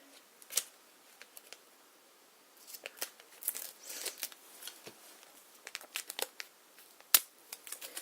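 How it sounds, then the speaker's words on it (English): Scissors snip through excess callsign patch material in a string of short, crisp cuts and crinkles, irregularly spaced, close and fairly quiet with no talking. "I'm just going to cut some of this off"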